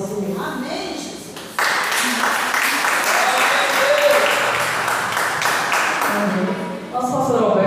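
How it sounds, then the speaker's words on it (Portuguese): Church congregation clapping and applauding during a healing and deliverance worship service, a loud dense wash of hands lasting most of the clip, with voices heard before and after. "agradeço a minha oportunidade e as palmas ao Senhor"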